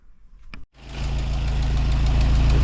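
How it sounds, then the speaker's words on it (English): Triumph TR4 sports car engine with a makeshift muffler starting up after a brief cranking sound, then settling into a loud, close, steady idle with a rough rhythmic pulse. "Maybe I'll let it warm up a little more"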